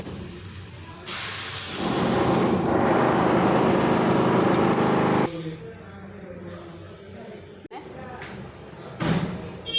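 Construction work in the house upstairs sends through a loud hissing, grinding roar for several seconds before it cuts off, leaving quieter room noise with occasional knocks and a thud.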